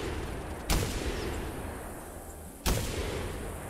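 Two loud Maisto shotgun blasts about two seconds apart, fired at geese in the hunting game theHunter Classic, each sharp crack standing out over quiet outdoor ambience.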